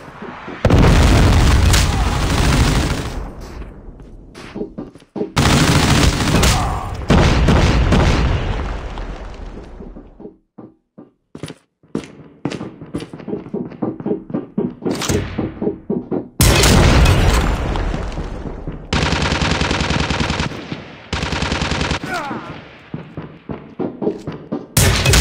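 Predator missile strikes in the mobile shooter Call of Duty Mobile, loud booming explosions with long rumbling tails, a quieter stretch of scattered pops and crackles between them, then more heavy blasts.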